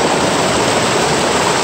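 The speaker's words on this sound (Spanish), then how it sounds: "Pues lleva fuerza el río." The Rosario river flows strongly, making a loud, steady broadband rush of fast water close by that fills the whole moment without a break.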